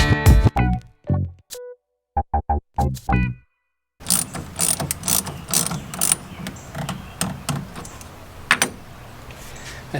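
A wrench ratchets while a car battery is connected on a Chevrolet undergoing a camper conversion, with scattered metallic clicks and clinks up front, a short pause, then denser close ratcheting and handling noise.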